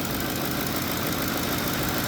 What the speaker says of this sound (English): There's a tick, but that's lifter tick.